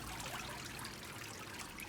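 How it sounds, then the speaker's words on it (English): Water trickles and drains off a papermaking screen lifted from a vat, a steady close splashing dribble without pause or voices. "And just grab that up. And Let the water run off."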